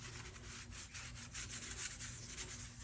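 A rag rubs raw umber paint into a canvas in steady back-and-forth strokes, a close, soft, continuous scrubbing texture with no talking.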